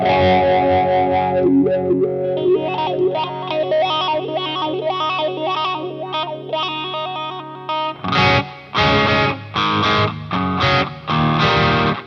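Electric guitar through a Dunlop Crybaby Q Zone fixed wah pedal, set at full range, plays a continuous distorted, chorus-tinged phrase for about eight seconds, then loud, choppy chord stabs with short gaps between them.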